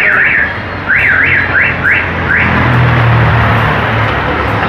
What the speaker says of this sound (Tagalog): So, pag pinersa natin, tumutunog na siya.